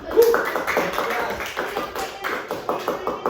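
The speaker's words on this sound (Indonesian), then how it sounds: "Tepuk tangan untuk Eda." Classroom students clap together for a classmate in a steady, fairly close patter of claps, with a faint murmur of voices underneath.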